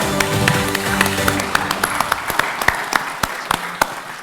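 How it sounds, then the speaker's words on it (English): Audience clapping at a national small-business awards ceremony, steady applause with a few sharper claps standing out over a background murmur. "Round of applause, ladies and gentlemen."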